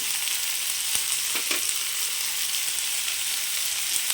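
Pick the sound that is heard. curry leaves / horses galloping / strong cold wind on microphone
curry leaves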